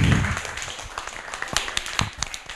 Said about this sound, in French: Vraiment, on s'applaudit tous.